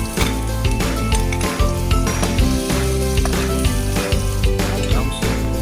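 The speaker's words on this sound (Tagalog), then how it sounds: "At kapag mainit na, lagyan na natin ng mantika. Ang una nating ilalagay ay ang luya." Ginger sizzling in hot cooking oil in a heated pan while halang-halang and tinolang manok are prepared, a steady dense frying hiss running throughout with clicking, rattling bursts layered on top.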